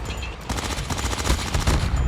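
Fennec submachine gun fired in Call of Duty Mobile, loud rapid bursts of automatic gunfire with dense repeated shots, interrupted briefly and then resuming, close and alone with no talk.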